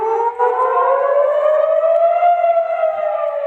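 A loud wailing air raid siren sounds continuously, its pitch slowly rising and holding in a long mournful tone, with no speech, during rocket fire in Israel and Gaza.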